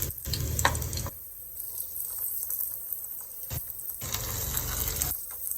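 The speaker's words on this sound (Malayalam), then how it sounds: "അപ്പം നമുക്ക് കടുക് താളിച്ചത് ഇതിലേക്ക് ഒഴിച്ചു കൊടുക്കാം." Hot mustard seed tempering in coconut oil poured over sweet pineapple pachadi for an Onam sadya, giving loud bursts of crackling sizzle and patter that start, fade, and flare up again, close by with no talking.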